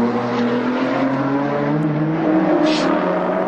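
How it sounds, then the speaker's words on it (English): Touring race cars at the 1991 Bathurst 1000, the race leader hard behind car 10, engines droning and whining steadily at high revs as they pass, loud and continuous without commentary. "So here is the race leader, hard on the heels of the Synovus Moffat entry, car 10."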